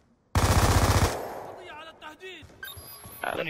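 An MK-48 light machine gun in the Black Ops 2 video game fires a loud, sustained burst of rapid shots for about a second, followed by softer game effects and ambient sounds.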